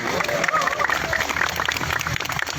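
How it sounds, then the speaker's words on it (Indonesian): A crowd at a labor rally, where workers protest a minimum-wage rise of under one percent outside city hall, claps in a dense, steady burst of applause, with voices mixed through it. "Tepuk tangan buat semuanya."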